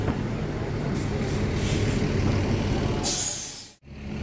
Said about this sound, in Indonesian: ini bus kedua dari PO Palala yang akan berangkat menuju Jakarta pada pagi ini